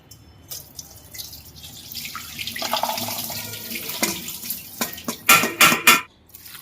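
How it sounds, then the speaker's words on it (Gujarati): Soaking water drained off soaked val (lima) beans, which are then rinsed under a tap: running water and splashing build up, ending in a few sharp clatters of a metal pot or vessel. "હવે આપણે આનું આ પાણી કાઢી નાખવાનું આનો કોઈ ઉપયોગ નહીં કરવાનો"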